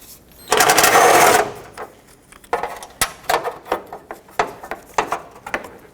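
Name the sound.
socket wrench removing radiator support bracket bolt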